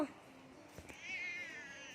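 A cat lets out a short, faint meow, its voice rising and wavering, over low background noise.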